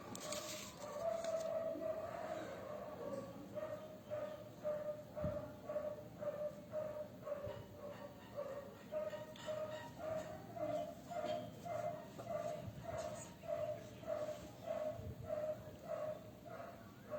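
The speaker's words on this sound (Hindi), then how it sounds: "देखिए कितना लाउड कुत्ता बोल रहा है दूर से" A dog barks repeatedly from a distance in steady, regular bursts that carry loudly over a constant background hum, with no voices alongside.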